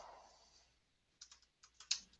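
A few quiet clicks come from a computer keyboard as a short name is typed, a sparse, irregular cluster of soft nearby key taps after a moment of near silence.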